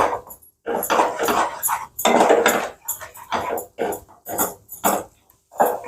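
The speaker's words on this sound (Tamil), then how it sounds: "கண்டினியூஸாக ஸ்டிர் பண்ணிகிட்டே இருக்கணும் அந்த கோல்டன் ப்ரௌன் கலர் வர மட்டும்" Moong dal halwa is stirred in a pan without pause, making repeated scraping and clinking strokes of the spoon against the metal in an uneven rhythm, each stroke separated by brief gaps.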